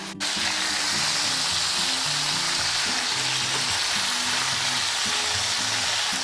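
Ground meat browns in a hot pan for a quick bolognese sauce, giving a loud, steady sizzle with stirring scrapes throughout.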